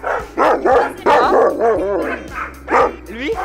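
Several large dogs bark from inside a cage, a close run of loud, overlapping barks and yelps that come in bursts with brief gaps.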